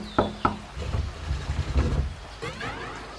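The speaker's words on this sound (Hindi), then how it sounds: "बंटी कबूतर के घर जाती है और दरवाज़ा खटखटाती है।" Cartoon door knocking: two sharp knocks near the start, followed by low rumbling background noise and a brief rising swoosh toward the end.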